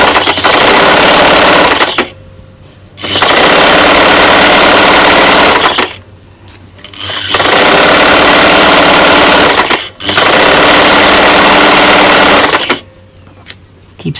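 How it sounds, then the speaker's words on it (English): A sewing machine stitches a half-inch seam along the orange T-shirt bottom of a homemade dress, loud and close, running in three long steady bursts of whirring with short pauses between them. "So this is the orange bottom we're stitching here"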